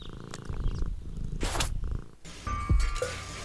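A cat purring in the video game Deponia, a rough low rumble lasting a few seconds amid other game sounds, no speech.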